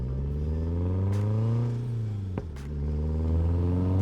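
Engine of a 1991 Toyota MR2 turbo revs up, dips with a sharp click, then climbs again, a strong harmonic drone close and alone.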